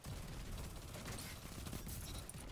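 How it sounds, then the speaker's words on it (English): Weapon fire in Destiny 2 during a team multiplayer match, likely a grenade launcher, comes as a dense, continuous barrage of booming shots and blasts that stay loud and cluttered throughout, with faint talk underneath. "Yeah, grenade launcher."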